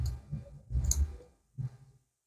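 Quiet clicks of a computer mouse during photo editing, a few soft taps spread over two seconds with near silence between them.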